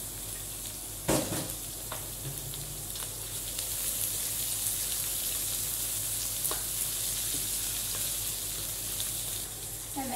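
Chopped onions and capsicum frying in a pan make a continuous soft sizzle with scattered crackles and one sharper pop near the start. No one speaks.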